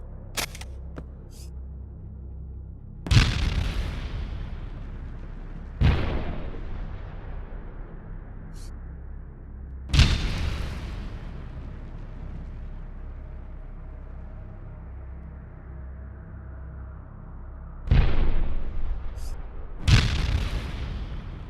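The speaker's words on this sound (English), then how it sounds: "And here's the sound of the rocket launcher once again." Rocket launcher in a sci-fi first-person shooter, firing and exploding several times: sharp loud blasts each trailing into a long rumbling decay, spaced a few seconds apart with no voices.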